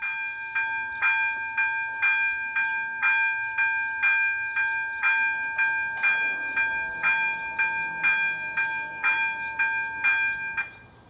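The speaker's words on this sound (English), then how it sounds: "The Class 162s used on local passenger services belong to the most numerous locomotive design working in both the Czech Republic and Slovakia" A Class 162 electric locomotive train passing through the Elbe River valley near Usti nad Labem in the Czech Republic, with a steady, evenly spaced rhythmic clatter of wheels over rail joints that fades toward the end.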